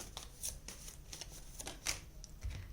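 Tarot cards being shuffled by hand in a quiet room, a series of soft papery riffles and flicks at close range with no voices.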